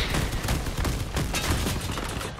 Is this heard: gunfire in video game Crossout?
yes